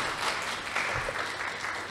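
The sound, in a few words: applause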